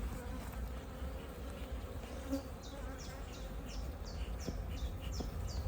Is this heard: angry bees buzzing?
yes